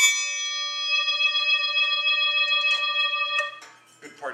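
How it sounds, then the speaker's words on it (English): A swing gong hanging on a percussion rack is struck once, ringing out in bright, sustained metallic overtones that slowly decay, with faint rustling and handling noises toward the end. "The swing gong."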